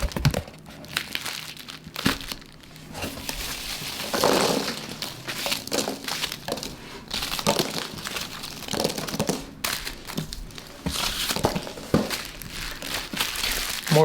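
Packaging from a Yema Superman Black watch crinkles and rustles continuously up close, with dense crackling bursts and brief pauses as the wrapping is handled, no talking.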